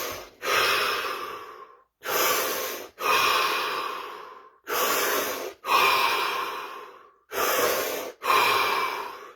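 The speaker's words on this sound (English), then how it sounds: "7 deep breaths" Seven-count set of deep breaths, each a long, close, airy inhale and exhale separated by short silences, repeating at a slow, even rhythm with no talking.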